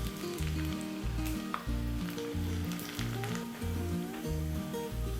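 Dried red chillies broken into hot coconut oil with mustard seeds and onion for a tender jackfruit sambar tempering, sizzling in a continuous bright hiss close by, with gentle music underneath and no voices.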